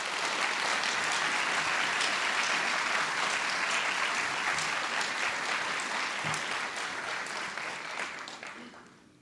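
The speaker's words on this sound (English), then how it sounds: "that deserves a round of applause" Audience applause at a university fall welcome address, a large crowd clapping steadily in a hall for several seconds before gradually fading out.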